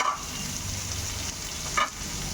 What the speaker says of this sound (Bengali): একসাথে আলু পেঁয়াজ সব কিছু ভাজা হয়ে যাবে।